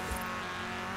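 A mini buggy's engine in the racing game Forza Horizon 4 roars loud and steady at high revs, with a brief tire squeal at the start.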